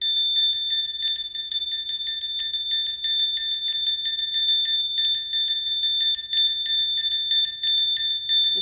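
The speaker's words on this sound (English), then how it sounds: "we're going to ring the bell, beautiful bell I bought at my ashram that I go to in India" A bell bought at an ashram in India rings with a clear, bright, sustained metallic tone, its overtones shimmering steadily and evenly for several seconds, alone and without talk.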